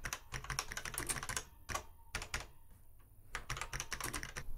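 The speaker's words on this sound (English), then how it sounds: "In use, you get a nice satisfying click, although these are not modern switches, but they still sound good" ZX Spectrum keyboard keys clacking under steady typing, a dense run of sharp close clicks broken by two brief pauses, with no voices.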